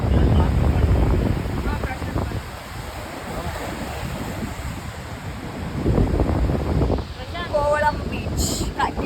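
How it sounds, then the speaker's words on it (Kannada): Strong wind buffets the microphone at Kovalam beach while ocean waves wash and roll in the background, loud and continuous, with a person talking partway through. "ಸೊ ತುಂಬ ಗಾಳಿ ಇದೆ ಮತ್ತು ಅಲೆಗಳ ಸೌಂಡ್ ಇದೆ ಅಲ್ವಾ"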